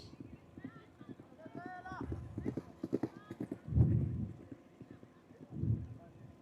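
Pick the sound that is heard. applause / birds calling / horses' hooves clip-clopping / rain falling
horses' hooves clip-clopping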